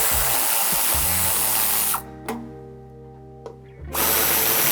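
A power tool runs in short bursts to remove the bumper screws on a 2016 Citroën Space Tourer, a close, loud whirring motor that stops and starts with brief pauses between.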